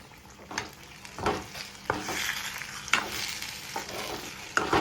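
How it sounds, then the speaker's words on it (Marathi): Semolina sheera with ghee and dry fruit is stirred in a hot pan, giving soft sizzling and a series of close scraping strokes and light spoon knocks at an uneven pace. "लास्टला फक्त तूप टाकून घ्यायचं कडनं परत याला हलवायचं"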